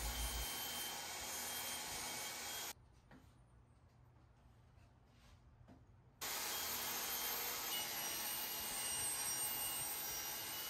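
A power saw cuts a wooden cabinet backboard to size, running as a loud, steady, close whine that drops away for a few seconds midway and then resumes at full strength.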